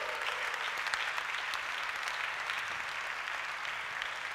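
A church congregation applauds at a Sunday worship service, steady dense clapping from many hands filling the room without a break and without voices.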